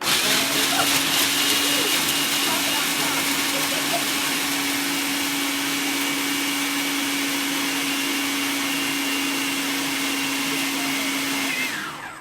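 A food processor grinding nuts for energy bites, a loud steady motor whine with a constant pitch and rough grinding texture running for about eleven seconds, then cutting off.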